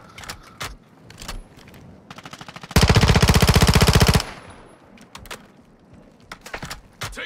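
Call of Duty: Modern Warfare II gunfire: scattered single shots and clicks, then a loud, fast burst of automatic fire lasting over a second, followed again by sparse sharp shots and clatter.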